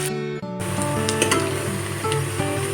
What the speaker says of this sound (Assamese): এইখিনি ৰঙচুৱা হোৱালৈকে মই অকণমান সময় ভাজি এনেধৰণে